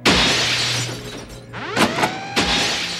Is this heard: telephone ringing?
no